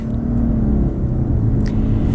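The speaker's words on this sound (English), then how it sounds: "Let's get an acceleration here with the new Outback." A 2020 Subaru Outback Onyx Edition XT with a turbocharged engine accelerating, a loud, steady low engine rumble and whir heard from inside the car, alone without talk.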